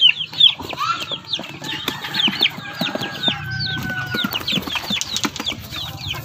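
Young Rhode Island chicks peep and cluck in a busy, overlapping chorus of short high chirps, close by and continuous, with no one talking.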